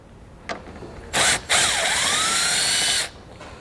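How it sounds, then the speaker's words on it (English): A power tool spins a 10mm socket to back out fascia bolts on a 2017 vehicle during a base plate install: one short burst, a pause, then a longer steady whir that winds down, close by. "We'll take a 10mm socket, we'll remove those now on both sides."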